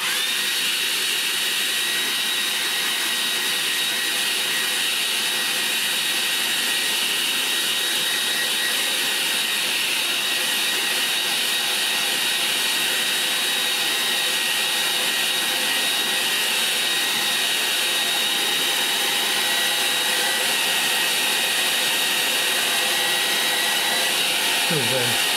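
A hair dryer blows steadily over a watercolour sky painting on paper, a loud constant whooshing drone held for the whole stretch with no talk over it.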